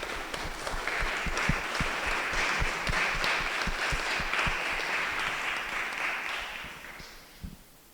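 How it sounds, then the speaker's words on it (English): A lecture-hall audience at a discussion event on artificial intelligence breaks into sustained, dense applause that fills the room evenly, then tapers off toward the end with a few last claps. "May we all have a big round of applause for our speakers present here to enlighten us"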